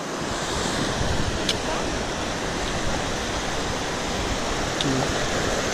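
Deep river current rushing near Gurgeniani waterfall, a steady dense roar of water filling the whole stretch, close and unbroken, with wind buffeting the microphone.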